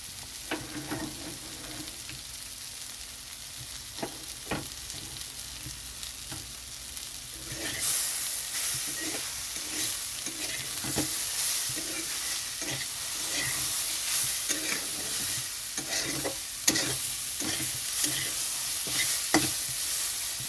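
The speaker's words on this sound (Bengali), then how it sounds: "তো আমি কড়াইয়ের গায়ে ছড়িয়ে দিয়েছি, এটা ছড়ানো অবস্থায় গ্যাসটা বাড়ানো আছে। তো এটা খুব তাড়াতাড়ি ভাজা হয়ে যাবে" Boiled potato and papaya stir-frying in a wok over high gas, with a steady close sizzle that swells sharply partway through and keeps going loud, broken by repeated scraping stirs of the spatula.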